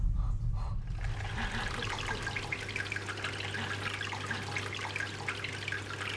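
Water runs down a homemade waterfall in a frog terrarium, a steady close trickle and splash that continues throughout with a low hum beneath.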